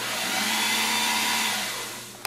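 A carpet cleaning machine with an adjustable rotary head hums steadily as the head spins, a loud continuous motor whine that eases slightly near the end before a brief sharp click.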